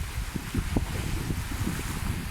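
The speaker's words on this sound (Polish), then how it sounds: "Nie wiem, czy mnie będzie słychać, czy mnie te fale nie zagłuszyły." Evening waves wash steadily against a shore, a soft continuous rush mixed with wind buffeting the microphone and no voices.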